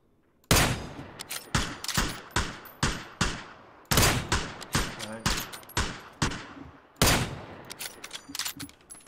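Rapid gunfire from PUBG on the snowy Vikendi map rings out in repeated sharp volleys of single shots and short bursts, loud and close, each crack trailing a quick echo.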